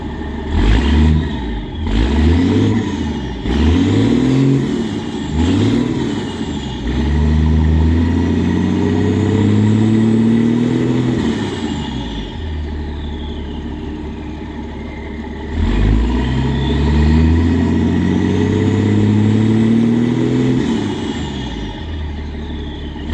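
A 2004 International DT466e diesel engine in a toy hauler bus, running through the factory muffler, idles with a low rumbling clatter, then revs up twice in long rising pulls and settles back. It is loud and close, with no talk.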